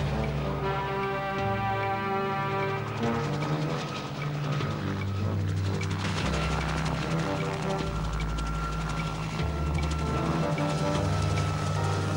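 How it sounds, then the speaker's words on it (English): A helicopter drones steadily throughout with a loud, continuous rotor hum over Australia's Northern Territory, while a voice talks over it intermittently. "taking a helicopter ride into Australia's Northern Territory"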